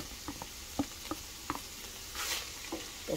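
Bacon and meat frying together in a pan for tacos de alambre, giving soft crackles and pops at an irregular pace, with a brief hissy burst partway through, faint and close with no voices.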